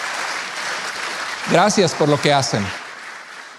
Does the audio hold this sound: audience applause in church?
yes